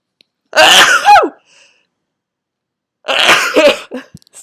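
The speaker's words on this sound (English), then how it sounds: "Oh, I'm going to sneeze." Two sneezes from one person indoors, each a sharp explosive burst with a brief inhale before it, separated by about two seconds of silence.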